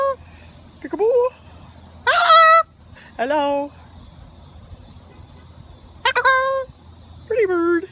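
Loud, harsh screeches and squawks from a Moluccan cockatoo come close up in five or six separate bursts with pauses between them, while a person speaks softly nearby.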